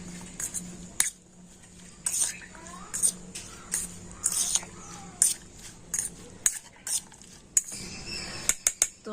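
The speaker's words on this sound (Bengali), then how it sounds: "তো এই তেঁতুলের চাটনিটা উপর দিয়ে দিয়ে দেব তো দিয়ে আমি সমস্ত কিছু খুব ভালো করে মিশিয়ে নেবো" Food is mixed with tamarind chutney in a bowl, with a rapid series of clinks and scrapes from a utensil against the bowl. The sounds come in short, irregular bursts at close range.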